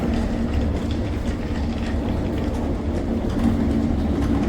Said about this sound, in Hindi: और ये है मेट्रो टनल के अंदर